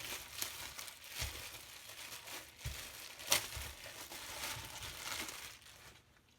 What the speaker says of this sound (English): First, what you're going to do is tear open the bag.